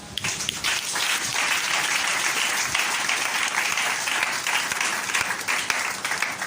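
A church congregation applauds the Lord during a Sunday service, a dense sustained wash of clapping from many hands filling the room, loud and even throughout with no speech.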